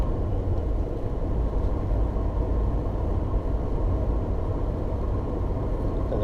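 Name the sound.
car engine after a single clutch upshift into 4th gear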